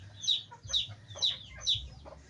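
Four-month-old Lemon Gray gamefowl chickens cluck in four evenly spaced, fairly faint bursts, each a short, sharp call close by.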